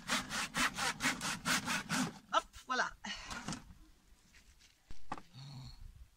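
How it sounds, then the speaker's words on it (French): Hand saw cutting pieces of wood for legs, about nine rapid rhythmic rasping strokes close by, then scattered knocks and rustles with a dog stirring nearby. "j'ai coupé mes quatre morceaux de bois, les pieds"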